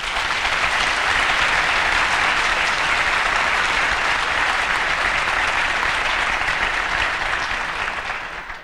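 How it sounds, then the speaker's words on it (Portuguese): Audience in a solemn session marking a diocese's 40th anniversary breaks into sustained applause, a thick, even wash of many hands clapping for several seconds before tapering at the end. "merecem uma salva de palmas aos que estão aqui presentes"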